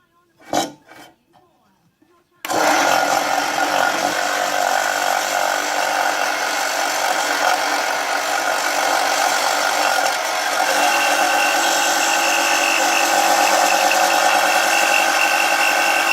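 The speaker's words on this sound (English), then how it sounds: "we'll just keep sanding that until we get a nice rounded end" Continuous abrasive power-tool sanding of a small linkage part for a model beam engine, loud and steady after a few quiet knocks at the start, running without pause.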